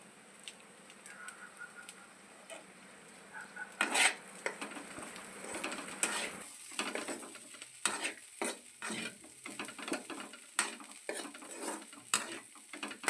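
An egg fry with coriander being stirred in a pan, heard as a steady run of close metallic scrapes and clinks of a spatula against the pan over a faint sizzle, with no voices.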